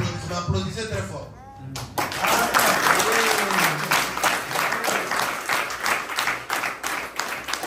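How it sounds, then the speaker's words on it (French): A church congregation breaks into loud, sustained applause after a brief spoken phrase in French, with claps and cheering voices filling the room. "Applaudissez très fort."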